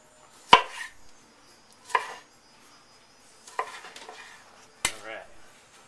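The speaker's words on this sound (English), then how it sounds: "I'm just going to kind of cut it into bite-sized pieces" A knife chops tomato into bite-sized pieces on a board, four separate, fairly crisp cuts spaced about a second apart, close and quiet with no talking.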